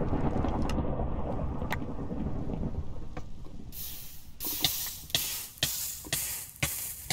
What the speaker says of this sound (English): Thunder. The weather is so bad.